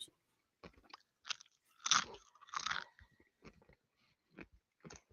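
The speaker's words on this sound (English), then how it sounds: "That's some crunchy bacon there, Lee." Crunchy bacon chewed close to a microphone: a series of sharp, irregular crunches and bites, loud and near, separated by brief quiet gaps.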